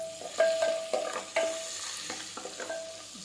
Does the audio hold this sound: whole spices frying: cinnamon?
yes